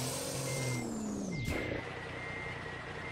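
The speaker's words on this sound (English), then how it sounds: "time to back this trailer in" Truck backing a trailer with its reversing alarm sounding: a steady high tone rings over an engine hum whose pitch sweeps down and settles, all loud and near.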